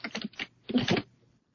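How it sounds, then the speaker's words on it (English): Keys tapped on a computer keyboard in two quick bursts, a short run of clacks then a denser flurry, close and fairly quiet, ending in silence. "now type Vice President."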